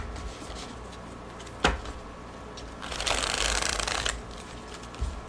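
A brand-new, slippery deck of cards is shuffled close by: a sharp snap, then a longer burst of fluttering riffle, with a few soft handling clicks around it in a quiet room.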